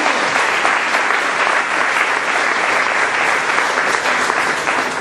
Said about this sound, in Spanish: Pero un aplauso al que vive,